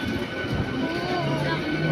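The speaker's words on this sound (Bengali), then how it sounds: "ট্রেন আমাদের ছেড়ে চলে যাচ্ছে।" A train pulls out of the station at Konnagar with a continuous low rumble and rolling wheel noise, with voices audible nearby.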